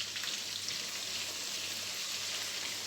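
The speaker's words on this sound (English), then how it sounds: "you would have heard it frying away like crazy, but because I've added some butter to it" Chicken pieces frying in a pan of oil with butter added, a dense, continuous crackling sizzle heard up close and steady for the whole stretch, with no talking.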